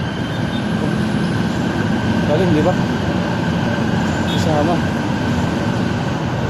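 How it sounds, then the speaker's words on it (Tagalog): An MRT train rolls past along EDSA with a continuous loud rumble of wheels on rails and brief metallic squeals, while people talk briefly nearby. "Sakto eh, mga tren oh."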